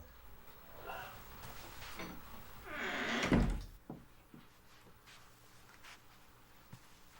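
A door closes in Tex Murphy: Overseer, a rising sliding scrape that ends in a solid thud, followed by a few faint knocks and a quiet room tone.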